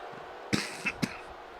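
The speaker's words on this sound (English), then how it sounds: "Apologies for the coughing." A wrestling commentator coughs during a live wrestling broadcast: two short, quiet coughs a half-second apart, with a small throaty sound between them, over a low, hushed background.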